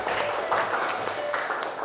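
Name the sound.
applause from a class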